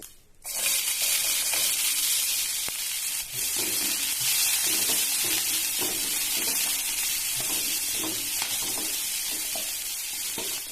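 Curry leaves and asafoetida crackle in two spoons of hot oil for a tempering, starting abruptly into a loud, even sizzle that holds steady with soft bubbling and spatter throughout.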